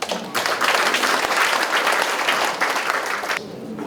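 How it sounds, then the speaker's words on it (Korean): An audience at a citizens' policy forum in Mungyeong claps for the presenters and discussion panel, dense steady applause that tapers slightly near the end. "발표자와 토론 패널분들께 박수 부탁드리겠습니다"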